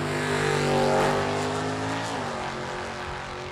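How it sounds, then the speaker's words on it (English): Oldsmobile Achieva and Ford Mustang drag racing cars roar down the strip toward the finish line, a loud engine drone that drops in pitch as they pass. "Here comes the Oldsmobile down the finish line."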